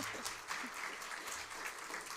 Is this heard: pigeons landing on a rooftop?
no